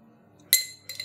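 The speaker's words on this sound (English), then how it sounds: "you're going to take your Hawthorne strainer" Glass clinks as a cocktail is strained through a Hawthorne strainer into a coupe glass, with one sharp bright chime and then a softer second clink, close and otherwise quiet.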